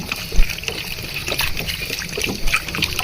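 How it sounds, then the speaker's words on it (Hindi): About half a litre of water is poured into a pot of khara masala keema, giving a short splashing trickle and gush with some knocks against the pot, close and fairly loud, with no voices. "करीब ½ लीटर पानी ये शामिल कर देंगे इसमें।"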